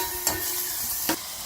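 Green chili, tomato and ginger sautéing in hot ghee for a tomato lemon rasam, sizzling steadily, with two sharp clinks of a spoon stirring the pan.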